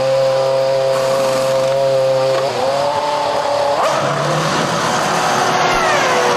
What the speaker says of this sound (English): In comes the championship leader, Fernando Alonso. McLaren get to work.